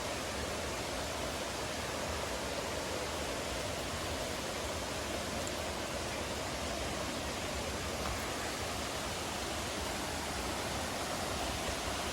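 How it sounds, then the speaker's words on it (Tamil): Water falls steadily in a forest at Koraiyar falls, a broad, unbroken roar that stays at an even level from start to finish with no voices or other sounds breaking through. "அமேசான் காட்டுக்கு நடுவில் ஃபால்ஸ்"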